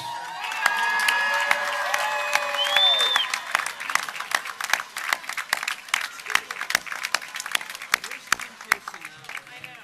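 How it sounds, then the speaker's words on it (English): Crowd of graduates at a 2018 undergraduate commencement ceremony cheering with whoops and shouts, then settling into scattered clapping that thins and fades toward the end, heard from within a large hall. "let's rise up as a body and let's give you a round of applause."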